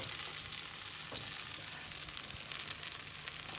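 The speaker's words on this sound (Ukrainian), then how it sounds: "і хай вони смажаться." Potato pancakes (deruny) fry in plenty of oil in a pan, a continuous close crackling sizzle with scattered pops, steady throughout and without speech.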